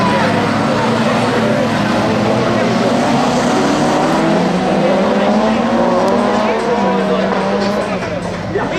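Rallycross cars in the Division II final of the national autocross at Arteixo race past loudly, engines roaring and revving continuously with rising and falling pitch, while an announcer talks over the racing.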